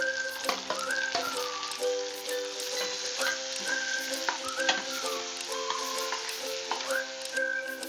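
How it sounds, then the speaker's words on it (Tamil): Small onions and tomatoes sauté in oil for a fish curry, a continuous bright sizzle close by with regular scraping stirs and faint clinks, and a thin whistling tone recurring in the background. "வெங்காயம் ஓரளவுக்கு வதங்கினதுக்கப்புறம் நம்ம தக்காளியும் ஆட் பண்ணிக்கலாம்"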